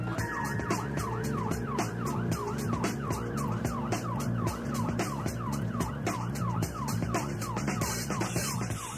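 An ambulance siren wails in a steady repeating rising-and-falling pattern as the crew heads to an emergency call from a busy high street, with engine and road noise beneath it.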